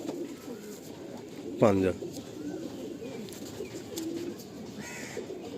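A Madrasi pigeon, a soft-bodied breeder hen, gives one short close coo while being handled, with people talking around it.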